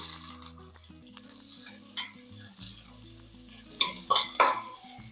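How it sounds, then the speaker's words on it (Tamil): Small onions sautéing in a pan for intestine curry, a light sizzle with intermittent spoon scrapes, louder stirring strokes toward the end, no talking. "பாருங்கள் வெங்காயம் நல்லா வதங்கட்டும்"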